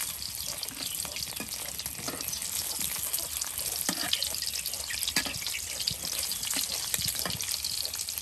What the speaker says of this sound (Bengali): দেখুন ডিমগুলো একদম লাল করে ভেজে নেওয়া হচ্ছে